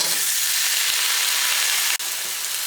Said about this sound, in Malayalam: ഇതിലേക്ക് നമുക്ക് ഏറ്റവും ആദ്യം ഉരുളക്കിഴങ്ങ് ചേർക്കാം.